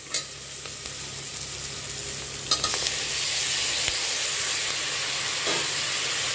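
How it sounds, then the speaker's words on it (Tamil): A loud, steady sizzle of tomatoes sautéing in a pan, with a few clinks and scrapes of stirring; the hiss swells and holds after a couple of seconds. "தக்காளியை சேர்த்துட்டு நல்லா வதக்கிடுங்க."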